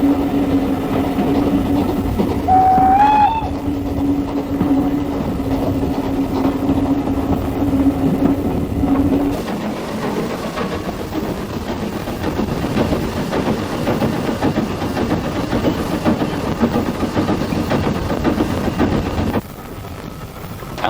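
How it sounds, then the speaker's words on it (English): A heritage train on the Keighley & Worth Valley Railway rumbles steadily around a heavily wooded curve, with a brief rising whistle early on and a continuous loud rolling roar throughout. "Trains pass around a heavily wooded curve."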